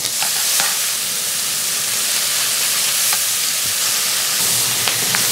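Mirepoix vegetables sizzle in a very hot, oiled pan, giving a loud, steady hiss and crackle up close with occasional faint clinks of stirring, and no talking.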